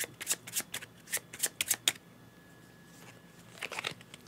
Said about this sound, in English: So now I'm going to shuffle these back up.